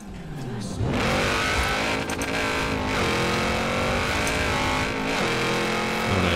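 Car racing in Forza Horizon 4, engine revving hard with rising gear pulls and shifts, loud and up close, continuous throughout with brief gaps between gears.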